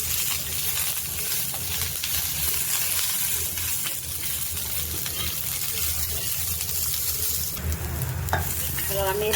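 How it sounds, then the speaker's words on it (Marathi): Green chilies with garlic and ginger roasting in a pan, a steady close sizzle and crackle with occasional stirring scrapes, louder stirring bursts near the end. "त्याच्यामध्ये थोडासा लसूण आणि अद्रक ते पण थोडंसं भाजून घेते."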